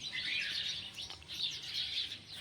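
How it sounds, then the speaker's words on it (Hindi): Many small birds chirp and twitter outdoors in a steady, overlapping chorus of high, bright calls, fairly close and continuous throughout, with no one talking. "ये चिड़ियों की आवाज़ आप लोग सुन रहे हैं।"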